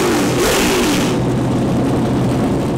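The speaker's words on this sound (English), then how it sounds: "oh, and very loud engines" Loud American car engines rev hard nearby at a car show in Horsham, a roaring surge that eases off into a steady throaty drone.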